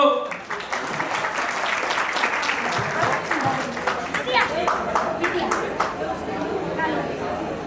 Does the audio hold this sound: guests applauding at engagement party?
yes